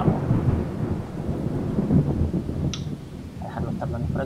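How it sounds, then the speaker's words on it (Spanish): Steady rain with low rolling thunder in the zombie survival game Project Zomboid, a continuous loud wash of rainfall and rumble with a few faint higher tones near the end. "Se ha pillado aquí el sonido de la lluvia."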